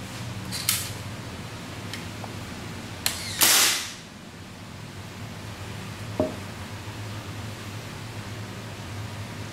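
A GHK AKM airsoft rifle running on a CO2 magazine fires a few sharp, isolated cracks, one louder burst with a short hiss behind it, over a steady low background hum and no talk.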